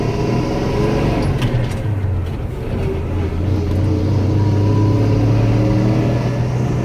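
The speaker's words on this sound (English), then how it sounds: "it seems to be driving pretty smooth and doesn't seem to have any big lag when you kick it down" A Ford C-series truck with a 4.9-litre Ford 300 inline-six, Offenhauser intake and Quick Fuel carburetor drives along and accelerates, its loud, steady engine drone rising in pitch from inside the cab.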